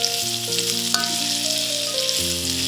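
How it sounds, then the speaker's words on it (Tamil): Onions and tomatoes with curry leaves sauté in a hot pan, a steady bright sizzle running the whole time beneath a louder melodic music track. "வெங்காயம் தக்காளி போட்டு தான் வதக்கணும்"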